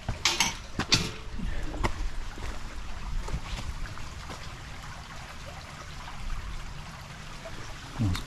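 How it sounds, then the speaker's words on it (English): A babbling brook on a countryside walk in Shropshire trickles and gurgles steadily at moderate loudness, with a few sharper splashy bursts near the start and end and no voices. "Nice babbling brook."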